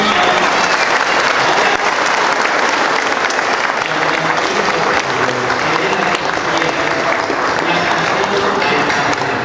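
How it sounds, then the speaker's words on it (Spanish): Loud, sustained applause from a congregation at a children's baptism, dense clapping holding at full strength throughout with crowd noise underneath. "Vamos a darles un fuerte aplauso"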